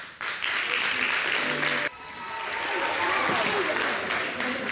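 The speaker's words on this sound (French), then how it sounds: "Fallon, Lily, Misha, Zota, merci de l'applaudir, bravo" Audience applause on a French TV variety show set after a dance battle, a steady dense clatter of hands that breaks briefly and then swells back, with some voices mixed in.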